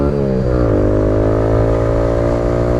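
A Kawasaki Z125 Pro's small single-cylinder engine revs hard during a street race, a loud, steady buzzing drone that dips briefly as the rider shifts, then holds a higher, even pitch.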